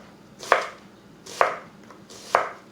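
A knife chops an onion on a cutting board three times at an even, unhurried pace, each stroke a crisp close thud with quiet between.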